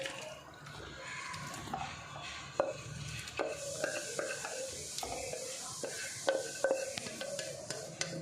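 Chicken pieces going into a pan and being stirred in a home kitchen, with close, irregular scraping and clinking of a utensil against the pan over a low sizzle and no voices.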